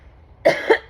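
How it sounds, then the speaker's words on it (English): A single close cough, two quick bursts in under a second, recorded outdoors in a backyard against a quiet background. "always cover your mouth when you cough"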